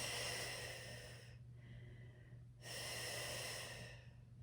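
Breathing during a Pilates exercise with weights: two long, steady breathy exhales, close and fairly loud over a low steady hum, separated by a short quieter gap.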